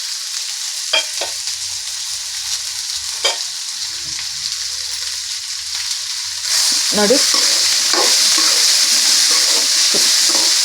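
Onions and turmeric powder sizzle in hot oil in a pan for spicy avalakki, with scraping stirs over continuous frying that grows louder midway; a voice briefly speaks.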